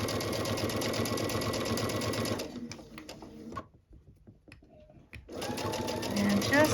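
A sewing machine stitching fabric hums in a fast, even rattle close by, stops for a quiet gap with faint handling clicks, then starts up again, with a voice talking over it.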